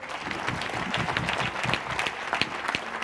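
Audience at a national quiz final applauds a team's correct answer, dense steady clapping from a crowd throughout, close and fairly loud.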